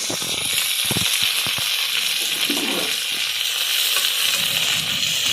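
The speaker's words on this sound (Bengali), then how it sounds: "গাজর, আলু, পেঁয়াজ, টমেটো সবগুলোকে ভালোভাবে এখন লাল লাল করে ভেজে নেব।" Carrots, potatoes, onions and chopped tomatoes fry in a pan with a loud, continuous hissing sizzle and scattered crackles, close up and steady throughout.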